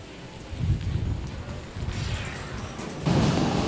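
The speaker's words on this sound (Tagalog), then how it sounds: "Nakikita natin ang napakalakas na bugso ng ah, hangin." Strong typhoon wind roars and buffets the microphone in surging gusts, swelling noticeably three times with a low rumble beneath, strong enough to push a jeep's hood and topple a motorcycle.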